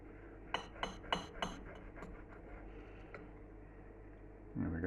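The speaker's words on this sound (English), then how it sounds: "I think we'll have to cut across the grain with my relatively blunt knife" A relatively blunt knife slices flank steak across the grain, tapping and clinking against the surface beneath in a quick run of four close strokes, followed by a few fainter taps and a low bump.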